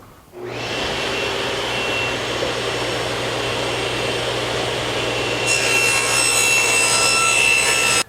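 Table saw with its blade tilted for a 45-degree bevel rips through a wooden board in one continuous loud cut, motor whine steady from start to finish.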